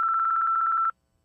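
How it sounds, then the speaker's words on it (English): A telephone answering-machine tone on a phone line, a rapid warbling electronic beep pulsing for about a second before cutting to silence, loud and close. "Leave a message after the beep."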